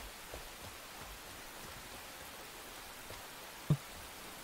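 Steady soft rain falls in the survival game Enshrouded, a constant even hiss with one brief low thump near the end and no talking.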